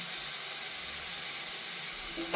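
Sauce hits a hot pan for a momo filling, raising a steady, quiet steamy hiss and sizzle that runs on evenly, with a small clatter at the very end.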